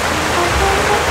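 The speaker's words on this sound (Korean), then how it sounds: "이 정도 빗소리면 집에서도 참 잘 들렸겠어요" Heavy rain drums steadily on a tent and tarp at a summer monsoon campsite, a close, dense, unbroken hiss with no voices.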